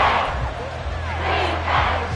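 A packed football stadium crowd on its feet before a third-and-seven play, a loud sustained roar of many voices swelling and cresting, with chanting and whistles mixed in.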